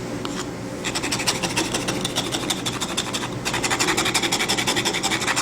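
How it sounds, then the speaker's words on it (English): A traditional concrete paver and an Azek Vast paver are scratched in turn, giving a steady rasping scrape that grows rougher and louder partway through. "to scratch both the traditional concrete paver and the Azek Vast paver"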